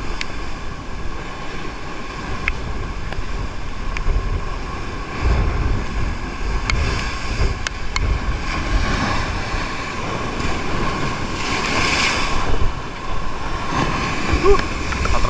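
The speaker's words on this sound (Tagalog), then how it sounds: "Grabe yung alon." Rough ocean waves churn and slosh steadily around a small fishing boat at sea, mixed with gusty wind buffeting the microphone and faint voices in the background.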